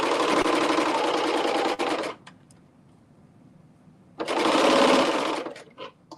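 A serger overlock machine stitches fabric for a reversible tank top in two loud, close bursts of dense whirring, separated by a quiet pause of about two seconds.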